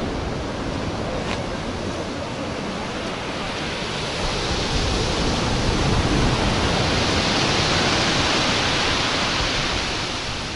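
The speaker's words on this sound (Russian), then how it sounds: "вот там прямо такие волны сильные разбиваются от пирсы, от буны" Strong storm waves break against a pier and groyne on the Alushta seafront, a continuous loud, wind-blown roar of surf with no pauses.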